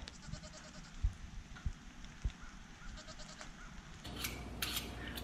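Goats bleat at a covered feeder on a farm, with a few loud, close bleats bursting out near the end over low shuffling and background noise.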